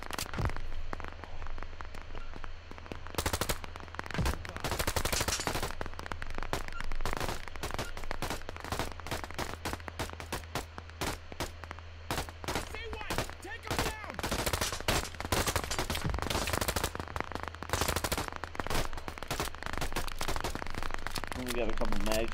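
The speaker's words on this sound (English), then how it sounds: "Enemy ahead! Open fire!" Rapid gunfire from the video game Operation Harsh Doorstop, dense bursts of automatic shots cracking nearly continuously for over twenty seconds, close and loud with a steady low hum beneath.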